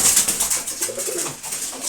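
Pigeons coo softly in a cluster during morning feeding, several overlapping low calls repeating through the moment, with a bright chirpy twitter layered on top and no talking.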